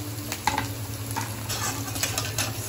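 Hing and chopped green chillies frying in a pan for an aloo tamatar dish, a soft continuous sizzle with light stirring scrapes and small clinks, close by, no talk.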